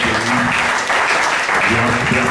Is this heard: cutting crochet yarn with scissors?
no